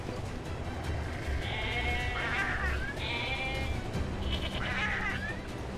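Sheep in the video game Nier bleat a few times over a constant background bed of music and noise, the calls moderately loud and spaced apart.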